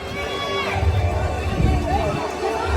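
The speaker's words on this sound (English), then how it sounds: "They're cheering us on." A crowd cheers and shouts as guests enter at the opening of Universal's Epic Universe park, a lively mix of whoops and voices close by, with talking throughout.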